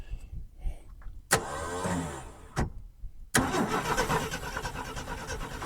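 An old, long-forgotten car's engine cranks in short bursts, pausing between attempts before a longer, rough grinding crank as it tries to start, loud and close with no talking over it.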